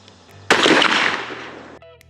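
A NULA Model 20S rifle chambered in 350 Legend fires a 150-grain Lehigh Defense Controlled Chaos round: one sharp, loud, close shot whose blast rings out and decays over about a second.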